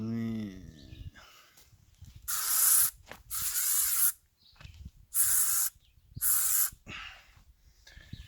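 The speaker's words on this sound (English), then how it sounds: "So we spray ourselves completely with that." Aerosol mosquito repellent sprayed from a can while deep-woods camping: four long hissing bursts, close and loud, separated by short pauses, with a brief voice at the start.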